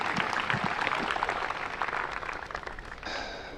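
Crowd cheering and clapping at a disc golf tournament, the Swedish Open, a steady dense wash of applause that fades slightly near the end.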